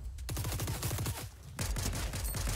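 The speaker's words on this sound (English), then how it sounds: "Why is there shooting in that direction?" Rapid bursts of gunfire from the video game Fortnite rattle on in dense, loud volleys with a brief lull partway through, with no talk over them.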